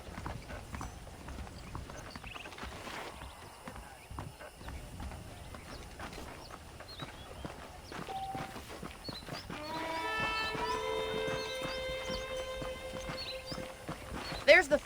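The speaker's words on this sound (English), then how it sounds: "The horses are saddled up over here." Steady clip-clop of horse hooves in the video game Red Dead Redemption through most of the clip, mixed with voices talking and some background game sounds, with a brighter tonal texture toward the end.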